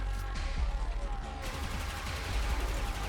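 Rapid pistol gunfire from the Akstiletto Prime in the Warframe video game, a dense stream of quick shots fired into an enemy's body over a low rumble of game sound, with a voice speaking at times.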